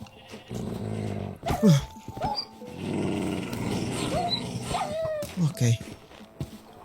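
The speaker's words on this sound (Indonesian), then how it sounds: "serigala yang ngincer domba" Wolves growl in hardcore-mode Minecraft, a few low snarling bursts rising and falling across the scene under a player's talk.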